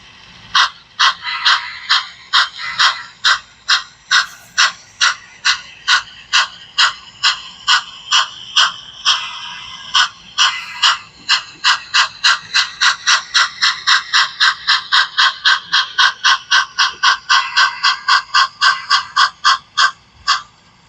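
Steady chuffing from the stock speaker of a Bachmann 4-6-0 model steam locomotive, with sharp, evenly spaced puffs that quicken slightly over time. It is loud and close and plays alone with no talking.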